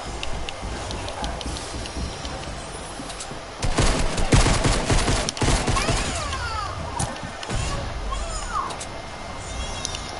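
Gunfire in Fortnite breaks out as a dense burst of rapid shots in the middle, with scattered single cracks before and after it over game ambience.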